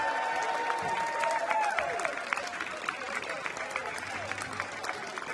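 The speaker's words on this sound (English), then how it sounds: "Ladies and gentlemen, keep your applause going for Jonas" Arena crowd applauding at the Lakeside darts world championship, a steady dense roar of clapping with cheers and a brief announcer-like voice riding over it throughout.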